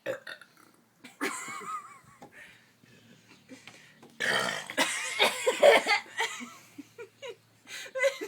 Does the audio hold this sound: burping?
yes